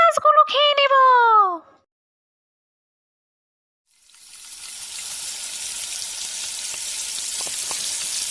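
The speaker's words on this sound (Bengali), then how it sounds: "মাছ ভাজা হয়ে গেছে" Cartoon sound effect of fish frying: a steady broadband sizzle rises after a pause and continues to the end, following a short burst of harmonic voice or meow-like calls at the start.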